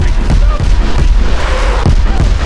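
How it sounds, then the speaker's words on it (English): Missile launch in War Thunder Mobile, top-tier naval combat: deep booming blasts and rumbling thuds, several in quick succession, loud and heavy against a constant low roar. "Missile launched in our direction!"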